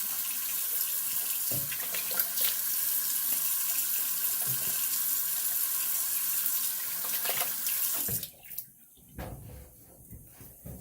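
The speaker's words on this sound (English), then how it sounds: "Let me rinse off." Steady running water from a bathroom tap during a rinse after a razor shave, broadband and continuous for about eight seconds before cutting off, followed by faint drips and splashes.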